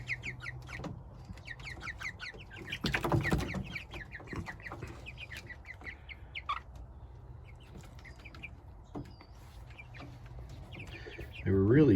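Meat chickens in a coop give frequent soft clucks and chirps from several birds, with a person speaking briefly among them and a louder flurry near the end.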